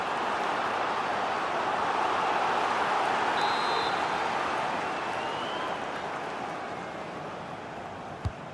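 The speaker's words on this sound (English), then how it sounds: "The crowd are certainly playing their part." Steady stadium crowd roar from a FIFA 23 match, a broad continuous wash of cheering that swells slightly then gradually fades, with no voices over it and a faint click near the end.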